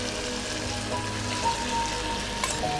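Taro (kochu mukhi) fries in a pan, giving a steady crackling sizzle like rain on a surface, with fine bubbling pops throughout at moderate, close volume.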